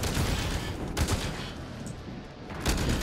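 Rapid gunfire in the game SYNCED, several dense close bursts with short gaps between them, loud and without talk.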